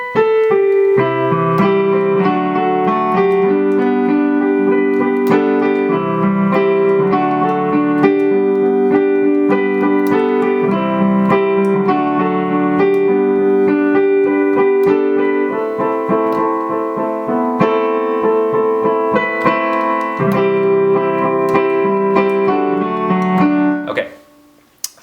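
Keyboard playing three chords of a song chorus, sustained held chords changing in a steady repeating pattern, clear and close, ending abruptly.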